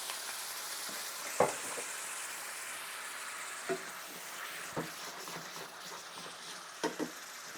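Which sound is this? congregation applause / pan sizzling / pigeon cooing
pan sizzling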